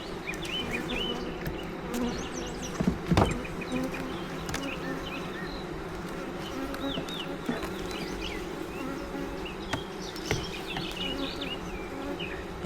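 Honey bees swarm around an open beehive during an inspection, a dense steady buzz close to the microphone with occasional louder passes of individual bees and light handling knocks.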